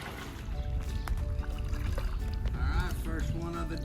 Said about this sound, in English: All right, I got to start paddling.